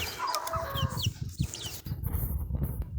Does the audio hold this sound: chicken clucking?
yes